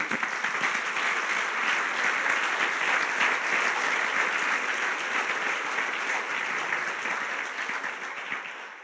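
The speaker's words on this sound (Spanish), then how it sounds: "Cuánto damos un aplauso al que vive?" A church congregation applauds steadily and loudly for several seconds, a dense wash of clapping that eases off slightly toward the end.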